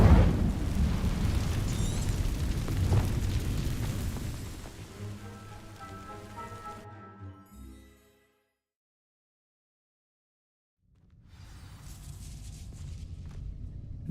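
Incendio fire spell igniting dry vines in Hogwarts Legacy, a loud whooshing burst that settles into crackling, rain-like burning and fades to silence, then quieter crackling ambience returns, no voices.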